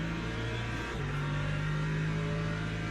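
Hypercars in the Le Mans Ultimate racing game roar past in a loud, continuous engine drone with shifting pitch as they go by, steady and close, with no talking.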